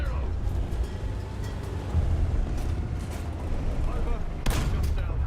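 Bursts of rapid game gunfire over a steady low rumble, with a sharp louder blast near the end.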